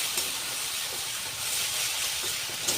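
Ground onion and garlic paste frying in a hot pan, a steady hiss and sizzle that stays close and even throughout, with a couple of brief louder crackles and no one talking.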